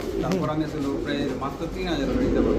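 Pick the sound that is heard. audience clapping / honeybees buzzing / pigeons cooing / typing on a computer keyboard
pigeons cooing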